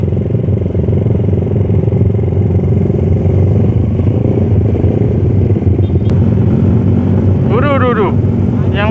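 A big-carbureted motorcycle revs hard during a night street ride, its loud, continuous engine roar filling the clip while people talk over it and a high rising whine cuts in near the end.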